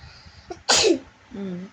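A single sharp sneeze bursts out near the middle, with a faint breath before it and a short voiced sound right after.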